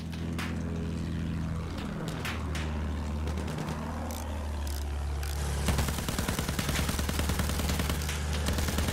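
Enemy gunfire in a video game, shooting at a tank hunter plane over Caporetto: rapid bursts of shots over a steady, droning propeller engine that runs throughout.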